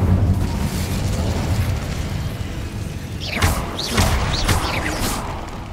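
Incendio fire spell explosion in a Harry Potter video game, a continuous loud fiery roar with deep rumble, joined partway through by a few sharp crackling whooshes and pops.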